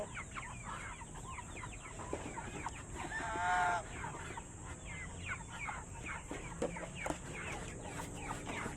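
A pet duck and goose squabble, trading sharp, agitated calls and honks in quick irregular bursts, fairly close, over a constant high background hiss.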